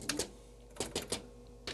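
A DECWriter II printing terminal, with a repaired solenoid, strikes characters onto paper in quick uneven mechanical clacks and short bursts, close and crisp over a low machine hum, with no talk.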